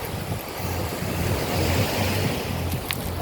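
Surf rolling onto a Sanibel Island, Florida beach at low tide in late afternoon, a steady broad wash of breaking waves with wind buffeting the microphone throughout.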